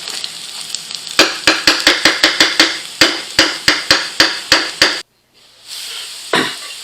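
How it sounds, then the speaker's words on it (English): Rice and onions browning in a pan are stirred with a utensil, giving a quick series of sharp, regular knocks against the pan over a soft sizzle, close and loud, then a brief pause before the frying resumes. "I'll keep stirring it here and there until it starts to brown up"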